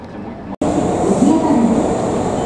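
Kintetsu Nagoya Line express train pulling into the terminal at Nagoya Station, a steady close rumble of running gear and car noise after a brief cut, with a faint voice underneath.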